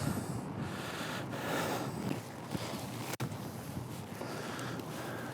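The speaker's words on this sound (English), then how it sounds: "the building probably blocks the wind a little bit" Outdoor wind buffets the microphone beside a building on a grassy spot, a steady broadband rumble and rush that swells and eases, with one brief dropout near the end and no voices.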